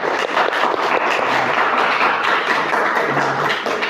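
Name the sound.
students clapping for their classmate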